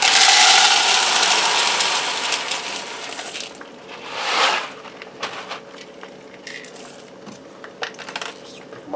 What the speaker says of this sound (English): Now lastly, I'm going to add in 2 cups of small shell pasta.